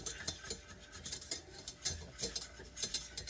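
Whisk scraping and clattering rhythmically against a pan while cornstarch gravy is stirred, steady bright metallic strokes up close, with no talking.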